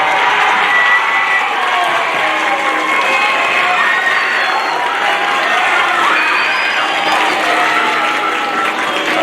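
At a middle school spring band concert, the audience gives a student named Riley a loud, continuous round of applause mixed with cheers and whoops, filling the hall without pause.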